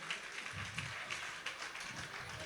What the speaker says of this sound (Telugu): మీరందరూ చప్పట్లు బట్టి పిల్లల్ని దాన్ని అభినందించాల్సిందిగా వచ్చినాను